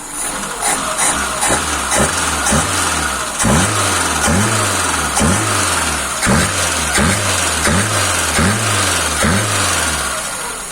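Rebuilt Solex carburetor feeding a warm VAZ 21051 engine that runs steadily at idle with no throttle, a close, even mechanical chug with a regular repeating pulse and no misfires, no voices over it.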